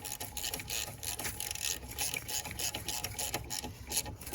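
A ratchet tightens a brake hose bracket bolt on a Lincoln Continental, giving rapid, steady clicking that runs throughout, fairly loud and close, with no talking.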